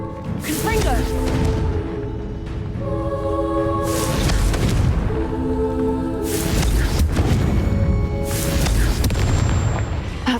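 Confringo fire spells blasting a Hexac in Hogwarts Legacy, several heavy booming explosions in succession, each with a rumbling tail, over game music, with someone speaking between blasts.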